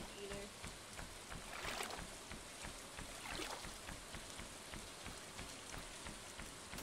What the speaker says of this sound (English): Maybe it's because it's raining